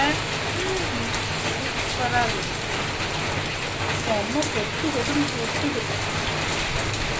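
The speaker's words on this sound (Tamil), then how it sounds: "செம்மையாக மழை பெய்யுதுங்க" Heavy rain falls in a steady, dense hiss that fills the whole stretch evenly, close and continuous, with faint patter under it.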